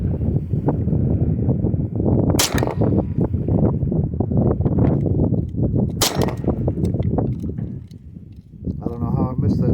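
Two loud, sharp gunshots crack out several seconds apart at an outdoor shooting range, standing out above a constant rumbling background of wind and handling noise.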